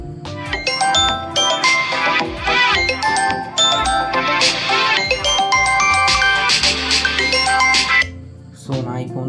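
A smartphone rings loudly on silent mode, triggered remotely by a find-device play-sound command, with a bright melodic ringtone of repeating chime notes running steadily for about eight seconds before cutting off.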